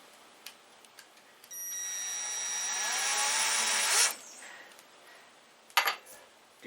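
A power drill bores the first screw hole for a Weaver mount into a QB78 air rifle, a steady whining drone of about two and a half seconds that rises slightly in pitch before cutting off, with faint clicks around it.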